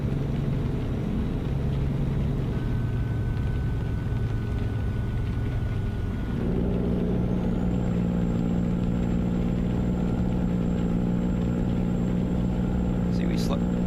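A modded heavy truck engine in a truck-driving game drones steadily while slowing on a climb, its pitch shifting partway through as the engine labors to hold speed; a faint whine rises near the end.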